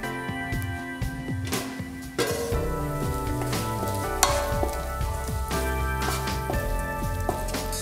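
Prawns fry in a pan for a Kerala-style biriyani, giving a loud, continuous sizzle with dense crackling and spattering throughout and no voices.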